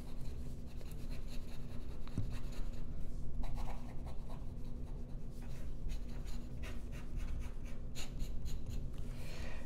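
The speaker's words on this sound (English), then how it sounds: "I'll do some fast writing." Lamy Scala fountain pen with a steel nib writing quickly on paper, a faint close scratching and rubbing with short bursts of strokes in an uneven rhythm, no talk.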